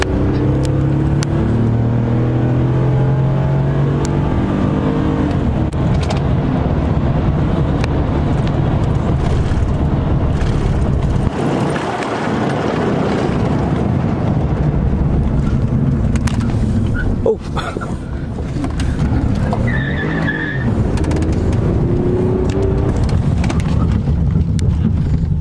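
A car drives fast during a pursuit after a crash, its engine and road noise roaring steadily and loudly throughout, with occasional voices inside the vehicle.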